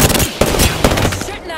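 Rapid automatic weapon fire in the Apex Legends battle royale game, loud and sustained bursts with a few sharper shot peaks, while a voice calls out over the shooting.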